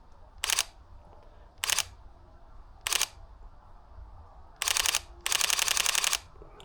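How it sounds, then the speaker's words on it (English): Rapid camera shutter bursts while photographing garden birds such as a great tit, five separate clicking volleys of rising length, the last a long continuous rattle, close and crisp over a quiet outdoor background. "shutter noise off, but it doesn't tend to spook the birds that much"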